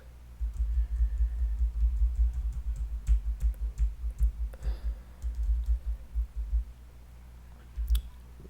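Arrow keys on a computer keyboard are tapped in quick, irregular bursts of soft clicks over several seconds, close and dry with no talking, tapering off before one last press.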